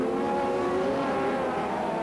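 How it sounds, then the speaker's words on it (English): USAC midget race cars howl together at the green flag at Las Vegas, a loud, steady engine drone with no voices. "The green flag flies hammer down into turn number 1."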